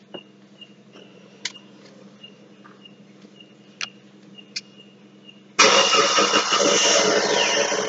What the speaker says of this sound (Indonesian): setelah ini kita coba hidupkan mesinnya